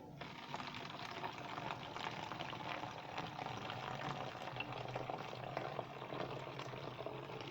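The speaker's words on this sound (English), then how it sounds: "I am going to be pouring it here in this mixture." Water pours into a mixture in a steady, faint stream, a continuous watery rush and bubbling that runs the whole time with no talking.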